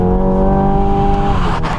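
Synthetic petrol-style engine note from a Hyundai Ioniq 5 N electric car, a loud steady harmonic drone that holds pitch, then shifts and breaks up near the end, with no voices over it.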